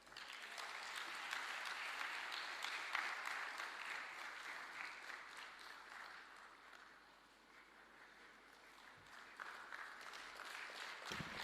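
Sustained audience applause fills a lecture hall at the Thabo Mbeki Africa Day Lecture in Dar es Salaam, honoring President Thabo Mbeki; dense, steady clapping from a large crowd, easing slightly midway before swelling again.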